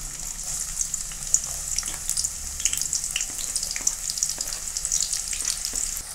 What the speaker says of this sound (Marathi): तेल छान गरम झालेलं आहे आपलं. आपण टाकून घेऊया त्याच्यावर मध्ये कांदा